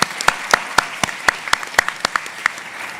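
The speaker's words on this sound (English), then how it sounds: "giving applause for our chair, Joyce Beatty, representative from Ohio" A small audience claps at a centennial town hall at a cultural center, with a few distinct, evenly paced loud claps standing out over a thin, sparse patter.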